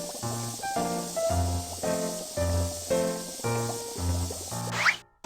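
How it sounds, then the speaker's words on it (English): A cartoonish foam-spraying sound from the kids' game Baby Panda's Town Supermarket repeats in a steady run of short, even bursts, each with a hissy, tonal quality before a brief final flourish. "Spray the door with foam."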